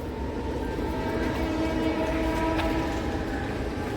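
A Mumbai local train runs past Kurla station as heard from a footbridge above: a continuous rumble of rolling carriages with faint tonal whine, at moderate distance, and no speech.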